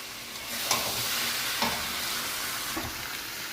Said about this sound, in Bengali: দেখুন খাসির মাংসের চবড়ি দিয়ে আমরা ভালোভাবে কষিয়ে নিয়েছি, তেল ছেড়ে দিয়েছে